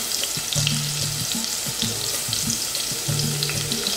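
Pieces of meat for picadinho fry in a well-spaced pan, giving a close, steady crackling sizzle with a rhythmic low clatter running underneath.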